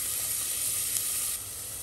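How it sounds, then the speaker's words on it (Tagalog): Onion and garlic frying in a pan for a Thai chicken red curry, an even, close, continuous sizzling hiss with no talking. "i-fry natin yung onion at saka garlic"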